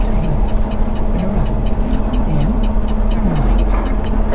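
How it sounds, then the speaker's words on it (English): A truck's turn signal clicks faintly and evenly, at a moderate steady pace, beneath a constant engine rumble inside the cab. "That's a turn signal that is not blinking fast."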